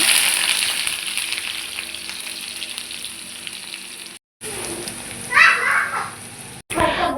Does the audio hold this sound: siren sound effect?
no